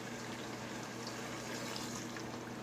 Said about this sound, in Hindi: अब इसमें थोड़ा सा पानी ऐड करेंगे।